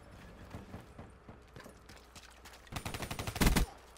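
Gunfire in the video game Call of Duty Black Ops 3, a rapid burst of close automatic shots that swells into a louder final volley, over quieter in-game footsteps and clatter.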